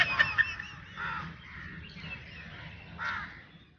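Crows caw from above at Kankaria Lake in Ahmedabad, several hoarse calls spread across a few seconds, faint and a little distant, with no talking.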